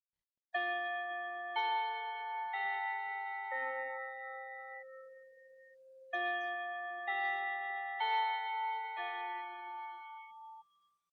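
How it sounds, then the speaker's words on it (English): A chiming bell marks the close of a podcast episode, two slow descending ding-dong phrases ringing out clearly and alone in a quiet room. "That bell means we've reached the end of today's episode."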